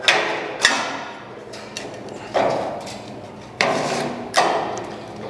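Several sharp taps as a flat chain feeder trough section is knocked into its coupler, four or five distinct knocks spaced irregularly over a few seconds, close and fairly loud with no talking.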